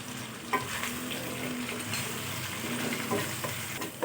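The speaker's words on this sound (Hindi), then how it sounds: "ये मैंने आधी कटोरी जो है ना दही की डाली है, तो इसे फिर अच्छे तरीके से भून लेंगे।" Yogurt fries over low heat in a pan for chicken korma, a steady close sizzle with occasional soft stirring knocks and no voices.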